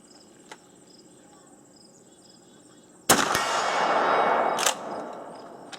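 Remington 887 shotgun firing slugs at a steel target outdoors, one sharp loud blast with a long rolling echo, then a second report, over a faint background of chirping insects.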